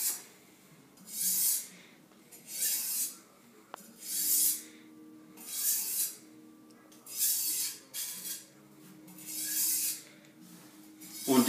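A blade being sharpened to a micro bevel on a DMT Diafold diamond sharpener gives soft, rhythmic rasping strokes, about eight even passes with short pauses between, close and fairly quiet with no talking.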